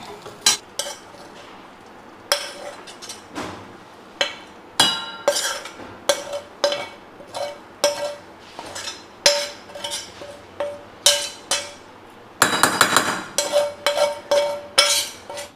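Prawn chutney is scraped from a vessel into a bowl with a metal spoon, producing repeated close clinks and scrapes in a steady, uneven rhythm, with no talk.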